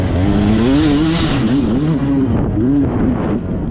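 Beta 300 dirt bike engines roar and rev loudly together at the start of an SXCS GP race at Virginia Motorsport Park, a steady rising and falling drone with no talking.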